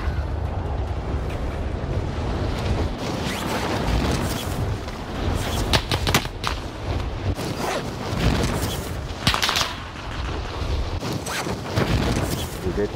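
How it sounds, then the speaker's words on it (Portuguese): Gunfire and explosions in Call of Duty: Warzone, with repeated sharp shots and booming blasts over a constant rumble of battle noise, while a player talks throughout. "Que eu já tô tomando tiro aqui."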